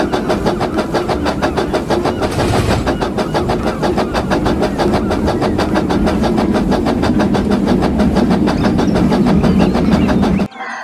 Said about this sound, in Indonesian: Yang ini ada kereta Thomas.